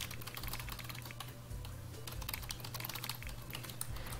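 Rapid, dense clicking of a computer mouse and keys while playing The Sims 4, a steady close patter of sharp taps over a low background hum with no talking.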